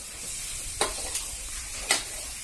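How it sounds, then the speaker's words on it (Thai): Thai holy basil being stir-fried in a pan for pad krapao, with a steady close sizzle and two sharp scrapes of the utensil against the pan. "นี่นโมจะผัดกะเพราให้โอนามิ"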